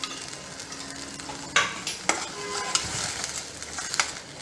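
Coconut masala sizzles in a hot pan while a spoon stirs and scrapes, with a few sharp clinks against the metal, close by.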